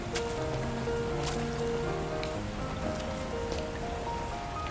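Steady rain falling in Love & Deepspace, a constant even hiss with scattered drops pattering throughout and a faint layered musical tone underneath.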